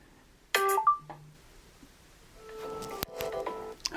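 An iPhone alarm goes off in a home kitchen during cooking, sounding as a few bright electronic beeps and then a longer run of chiming tones at moderate volume.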